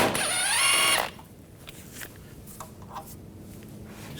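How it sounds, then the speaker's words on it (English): A power tool whirs loudly for about a second as it backs an 11mm socket off a bolt near the steering gear of a 2014-2018 GMC Sierra 5.3L V8. Faint mechanical clicks and handling noises follow. "Use a 11mm socket. Take this bolt out."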